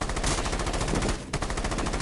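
Automatic gunfire in a video game, a dense, loud, continuous machine-gun stream that breaks off for a split second and resumes, filling the whole clip.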